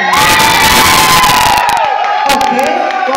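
A loud audience at a drag show cheers, whoops and shouts continuously, the roar thinning slightly toward the end.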